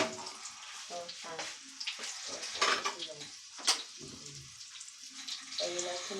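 Tortang talong, an eggplant omelette, fries in a pan with a steady close sizzle, broken by clinks and water-like splashes of kitchen handling.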